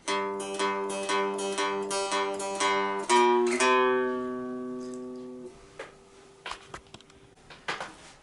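A plucked, twangy three-string cigar box guitar blues line played alone: a run of strummed and picked notes, a few held tones ringing out, then sparse scratchy taps near the end.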